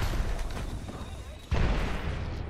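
A heavy grenade blast booms close and loud in a video game stairwell, rising out of a steady rumble of other game noise and distant bangs.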